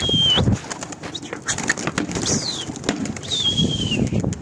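Pigeons outdoors during a bird-hunting outing, giving soft coos along with bursts of wing flapping and a few higher bird calls over a noisy outdoor background, with no talk.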